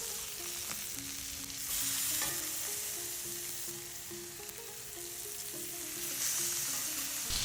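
Steaks sear in hot oil in a pan with a steady close crackling sizzle, while faint background music plays underneath.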